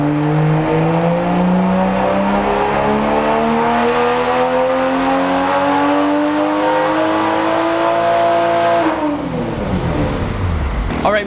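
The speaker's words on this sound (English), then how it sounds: "and let's start dynoing." A Toyota A90 Supra's engine revs steadily upward on a dyno for about nine seconds, its rising harmonic whine loud and continuous, then drops sharply off throttle as the revs fall away.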